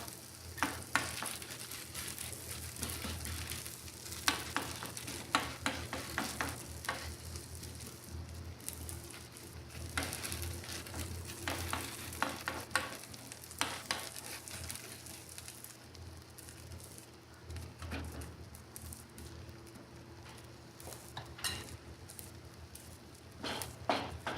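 Okonomiyaki batter fries in a pan with a soft, steady sizzle and crackle, quiet and close, running on without a break. Faint clicks and stirring noises come now and then.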